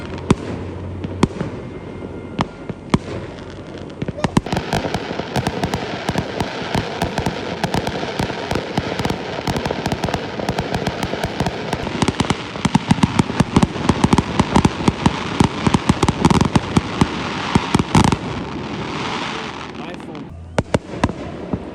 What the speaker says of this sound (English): I'm going to show you a little bit of the fireworks that we're at.